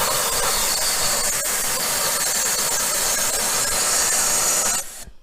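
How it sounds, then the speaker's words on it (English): An air compressor nozzle blasts air into a car engine bay in a loud, steady, close-up hiss that runs unbroken for several seconds and then cuts off abruptly. "Let's get the air compressor into there and blow the shit out of this and see what happens."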